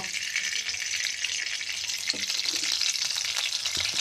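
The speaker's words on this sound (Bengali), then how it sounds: "এই কড়াইয়ে আমি এবার তেল দিয়ে দেব, সরষের তেল দেব" Mustard oil in a wok on the stove gives a steady, close frying hiss that runs through the whole stretch, with a few faint clicks partway through.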